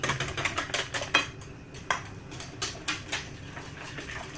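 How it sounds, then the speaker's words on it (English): A drink is whisked up with a teaspoon of chocolate powder, producing quick, rhythmic clinking and scraping against the cup, close and alone. "Put a bit of chocolate powder in it. And just whisk it up a bit."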